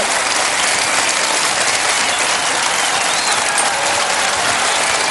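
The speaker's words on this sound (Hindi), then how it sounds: "और तालियां बजती रहें" Loud, dense studio audience applause on the Kaun Banega Crorepati quiz show, a sustained uniform roar of clapping with no talking.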